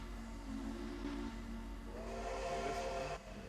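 A steam locomotive whistle in the Trainz train simulator game sounds in sustained, tonal blasts over a steady background hiss, with no talking.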